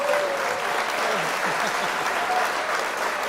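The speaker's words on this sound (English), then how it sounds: "give the man a decent round of applause" Steady applause from a crowd at an awards ceremony fills the whole stretch, dense and even, with a faint voice underneath.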